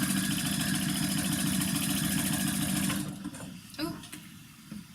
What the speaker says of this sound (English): and just sew in a big circle.